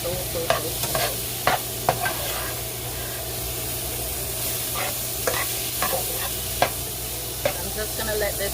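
Jamaican-style curry fish base sautéing in a pot, a steady sizzle and hiss with scattered sharp spatters and occasional stirring clicks, close and continuous without talk.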